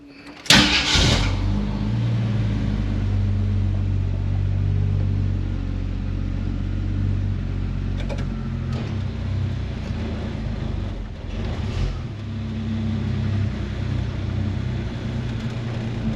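A 1946 Studebaker M5 truck on a test drive after new brake pads, its engine starting with a sharp burst, then a steady low rumble and drone of motion continuing close and loud throughout, with a few faint clunks.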